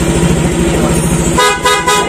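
A car engine revs steadily, then a loud car horn blares in a couple of honks close by, no talking.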